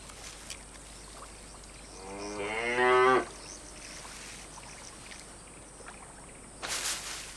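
A single cow lets out one long, rising moo in a reedy swamp, fairly close, against a quiet wetland background with a brief splash-like noise near the end.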